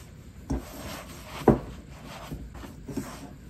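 Dry flour being shaken and rubbed by hand into loose dough flakes for steamed flower rolls, heard as soft, close scuffing and rustling with a few sharper brushes and taps, quiet and without talk.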